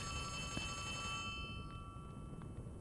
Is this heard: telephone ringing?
yes